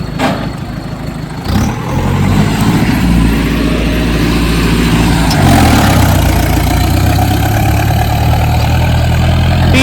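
A high-end turbo tractor engine runs loud and close while in gear, with a steady throbbing drone. The revs climb early on and the pitch shifts again partway through as the load changes.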